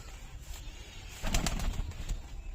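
Giribaz pigeons coo softly in low, repeated throaty calls, fairly close, growing fuller partway through over a quiet background.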